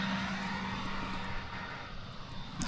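Frontier Airlines jet at DFW Airport, its engines giving a steady, loud roar that holds through the whole stretch, with a sharper rise of noise at the very end.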